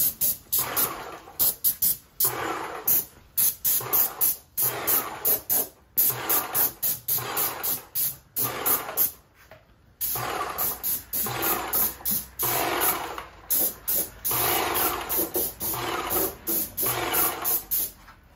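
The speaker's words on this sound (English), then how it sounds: "This airless sprayer really works great." An airless sprayer applying Fluid Film rust protection to a vehicle, producing a steady close hiss in repeated bursts of a second or two, separated by brief pauses, with no talking.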